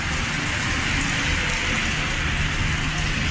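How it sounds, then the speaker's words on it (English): Cold January rain falls steadily on a street in Sulaymaniyah, Iraqi Kurdistan, a dense, even hiss of drops on pavement that holds constant throughout with no voices. "Quite miserable, cold rain."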